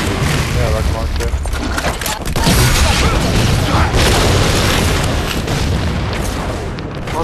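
Rocket launcher blasts in Halo 4 boom through a dense, loud wash of game combat, with heavy low rumbles and scattered gunfire under excited talk from players.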